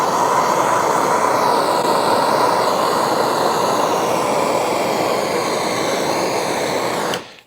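A propane torch flame roars steadily as it heats copper pipe for sweating joints on a homemade pressure-cooker still, a loud continuous rushing hiss that cuts off abruptly at the end, with no talking.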